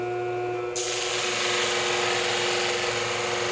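The tip of a pair of shears is ground on a spinning sharpening cushion plate, a loud, steady whirring hiss that turns sharper and brighter once the metal meets the plate, close by with no talk.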